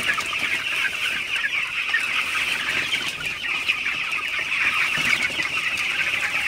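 Broiler chickens crowded in a poultry shed keep up a dense, continuous clucking chorus, loud and close with no pauses.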